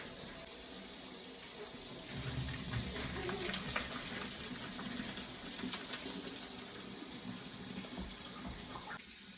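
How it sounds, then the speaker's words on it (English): Hot tap water runs steadily over drained ground beef in a fine mesh strainer, a continuous hissing splash at moderate volume with no talking. "And then we'll rinse it with hot water."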